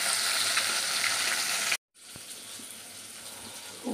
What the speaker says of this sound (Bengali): আর এই জিরে ফোড়ন দিয়ে আলু ভাজা করছি